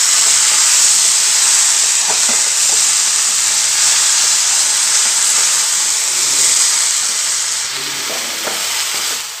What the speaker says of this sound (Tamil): இப்போ வந்து நம்ம மல்லித்தலைகளை போட்டுக்கலாம் ஒரு 2-3 நிமிஷத்தில் ஒரு பரட்டி விட்டாலே போதும்